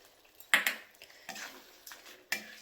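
Mushroom masala gravy being stirred in a pan: a few quiet, sharp clinks and scrapes of a spoon against the metal, spaced irregularly, with no talking.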